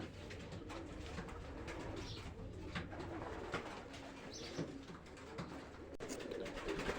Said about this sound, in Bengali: দেখেন কবুতরটা খুব সুন্দর দেখতে